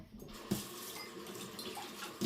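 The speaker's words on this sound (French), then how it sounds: "je lave le récipient où il y a l'eau tous les 2 jours" A water container being rinsed under a kitchen tap, with running water splashing steadily throughout at moderate level and a brief knock near the start.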